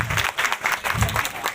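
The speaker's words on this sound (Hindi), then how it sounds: "तो उसके लिए भी एक बार जोरदार तालियां।" Audience applause at a BJP youth leader's ward-level gathering in Thanesar, a brief burst of clapping from a crowd, fairly close, rising and falling in uneven waves.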